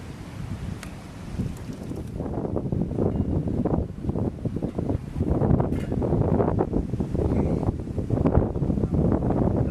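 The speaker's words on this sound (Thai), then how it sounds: "ไม่รู้ว่าจะตกเร็วตกช้าแต่ลมแรงมาก" Strong wind buffets the microphone at a beach where someone is camping in a car, a loud gusting roar that swells and surges steadily with no talk heard.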